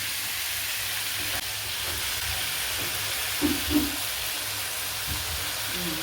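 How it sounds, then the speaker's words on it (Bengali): Potatoes frying in a pan for a vegetarian Bengali aloo posto, a steady broadband sizzle with a few soft stirring scrapes partway through, close and continuous, no one speaking over it. "একটু নাড়িয়ে টাড়িয়ে ভাজা করে তারপরে পোস্তটা দেবো"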